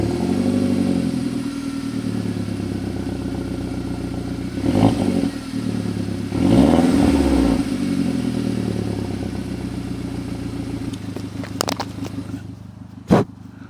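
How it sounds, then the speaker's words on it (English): An Audi A1 engine idles with a low rumble, then revs twice in quick surges before settling back to idle, recorded up close. "I'm gonna go and start up the car"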